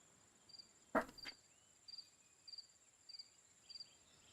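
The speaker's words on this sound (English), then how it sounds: "So quiet with the crickets." Crickets chirp at night in the video game Norland, a faint regular pattern of short paired chirps spaced about every half second over a quiet backdrop, broken once by a brief sharp thump.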